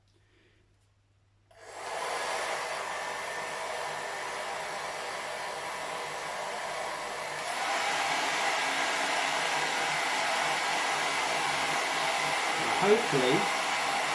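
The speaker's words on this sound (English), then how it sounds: "I've got a hairdryer, so I'm going to use a hairdryer" A hair dryer blows steadily to warm a thermistor in a simple circuit experiment. It starts abruptly, then jumps to a louder, stronger roar partway through, with a brief voice near the end.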